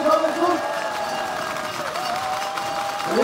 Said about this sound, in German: jetzt kriegen wir einen Applaus für die Mädels